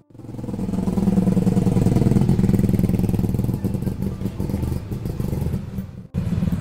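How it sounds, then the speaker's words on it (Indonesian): A Suzuki ST20 classic car engine, nicknamed Turuntung, runs steadily nearby with a loud, rough, chugging two-stroke rhythm, easing slightly before a brief dip and restart near the end. "Suzuki ST20 ini dijuluki Turuntung, karena suara mesinnya demikian"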